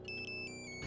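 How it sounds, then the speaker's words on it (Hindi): A soft electronic ringtone chimes in a quick repeating pattern of high tones, faint and steady, with no talking. "अजीत के फोन पर मानो क्यों फोन कर रहा है?"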